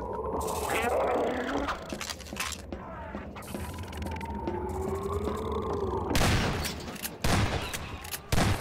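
Gunfire in the video game Half-Life 2: scattered shots over game noise, then a run of loud, sharp bursts near the end, with someone talking throughout.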